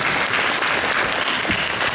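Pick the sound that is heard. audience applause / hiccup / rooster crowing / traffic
audience applause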